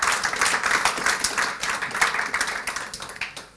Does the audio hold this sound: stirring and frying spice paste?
no